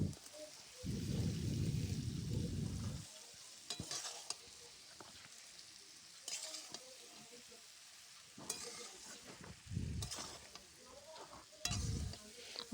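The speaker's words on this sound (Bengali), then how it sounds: "জল দিয়ে মশলাটা একটু নেড়ে নিয়েছি। এবারে ভাজা সবজিগুলো দিয়ে দেব।" A spatula scrapes and stirs spices with water and fried cauliflower and vegetables in a pan for a fish curry, in close, fairly quiet bursts: a long stretch early on, then shorter scrapes spaced apart, with soft sizzling between.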